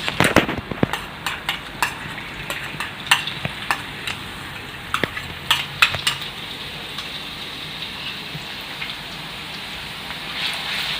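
Crushed garlic sizzles and crackles in hot oil in a pan, a steady bubbling fry with sharp pops scattered throughout, close up with no talking.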